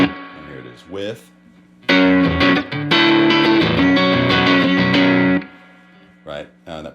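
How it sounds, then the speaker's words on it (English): An electric guitar plays through an old CE1 chorus effect unit. A loud, shimmering strummed passage rings in the middle, with shorter plucked notes before and after it, and someone speaks briefly around the playing. "that particular unit that's giving that sound is an old CE1 chorus."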